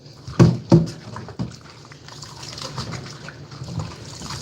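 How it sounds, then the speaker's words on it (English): Hands rinsed under running water from a tap, with a couple of sharp splashes at first followed by a soft steady trickle and light splatter, close by. "I'm gonna rinse my hands because meat hands we don't want to play around with."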